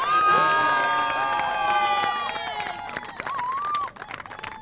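A crowd cheers and shouts at the closing ceremony and prize distribution of a Mumbai ultimate frisbee league in 2021, with loud continuous yelling and high whoops that ease off near the end.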